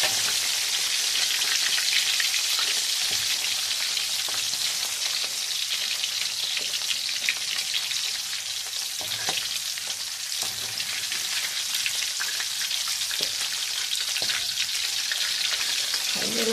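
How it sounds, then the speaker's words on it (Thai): Sun-dried striped catfish frying in hot oil, a steady dense sizzle with crackling pops running close and loud throughout, no voices. "ทอดให้เหลืองเพราะมันจะมีน้ำมันนะคะ"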